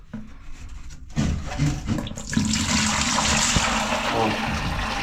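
Trapped water gushes out of a cut sanitary pipe in a bathroom, starting after a brief pause and then pouring steadily and noisily close by, with someone speaking over the flow.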